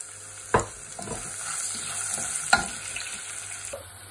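Onion frying in hot ghee for a potato rice dish, a steady close sizzle with two sharp stirring clatters, one early and one later, and no voices.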